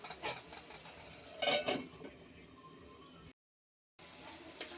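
A lid set onto a pan of tomatoes cooking on the stove, a couple of brief metallic clinks and clatters close by, then quiet kitchen background broken by a short dropout.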